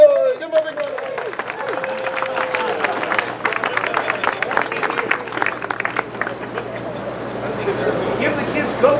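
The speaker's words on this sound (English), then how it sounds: "Give him a big round of applause." A crowd claps at a ride opening ceremony at Six Flags Discovery Kingdom, dense applause rising after an announcer's voice and then thinning out, with murmuring and chatter underneath.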